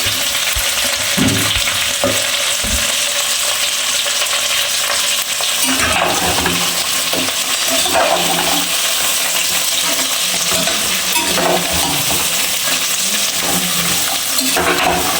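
Vegetables for a biryani fry and soften in a hot pan, a loud continuous sizzle with repeated stirring knocks and scrapes, plus wetter bursts as moisture hits the oil, heard up close without speech.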